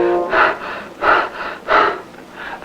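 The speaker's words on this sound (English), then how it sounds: "While I'm breathing, what happens?" Slow, audible breaths close up: three or four deep inhales and exhales with a slightly rasping, airy quality, evenly spaced and heard alone without other sound.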